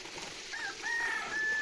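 A free-range village rooster crows in drawn-out, high calls, fairly near, over a faint hissing outdoor background.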